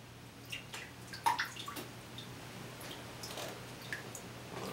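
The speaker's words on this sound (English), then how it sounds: "I'm going to rinse mine out right now," A boiler sight glass being rinsed in a bucket of water: close, irregular splashes and sloshing, with a few sharper clinks against the glass over a quiet background.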